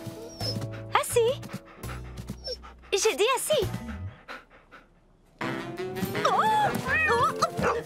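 A cartoon dog pants and whimpers close by while a person speaks over it, with a pause of near quiet before excited panting and yelps resume.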